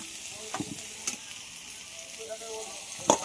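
Potato and pointed gourd pieces fry in mustard oil with a soft, steady sizzle, with a few faint stirring clicks and knocks, quiet and close.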